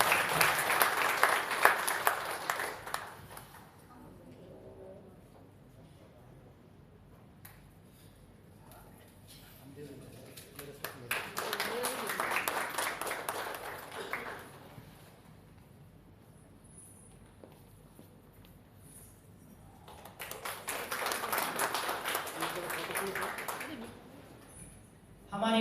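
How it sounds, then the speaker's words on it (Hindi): Bursts of applause greet award recipients at an International Women's Day ceremony, three separate swells of clapping rising and fading between stretches of announcer speech, moderately distant and soft. "जोरदार तालियां हो जाएंगी एक बार"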